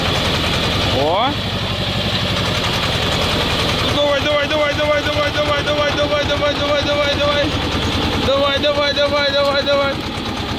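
A T-16 loader-manipulator tractor's engine runs loud and close with a continuous rough idle and revving, while people talk over it.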